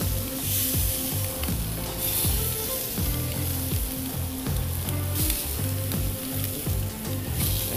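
Spadefish fillets sizzle loudly and steadily on hot grill grates, a dense continuous crackle with scattered pops close up.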